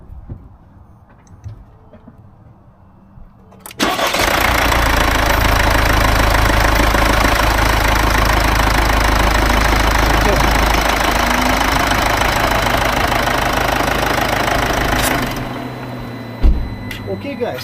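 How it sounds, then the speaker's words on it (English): A Mercedes E250 W212 with the OM651 diesel engine cranks and fires after a few seconds of quiet, then settles into a loud, steady idle with diesel knock that runs for about eleven seconds before being switched off. "So I'm going to start it, and you watch the camera if the needle is going to raise."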